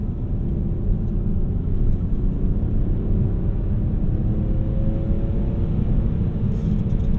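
BMW E46 330i ZHP engine pulling at half throttle, a steady, smooth drone that holds loud and even throughout, with a slowly rising engine note.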